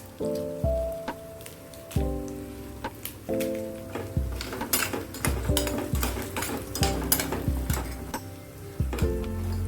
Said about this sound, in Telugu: ఎండుమిర్చి ఇలా తుంచి వేసుకోవాలి.